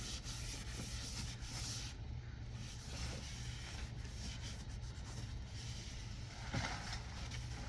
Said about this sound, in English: give it a good wipe, because the silicone helps preserve that rubber as well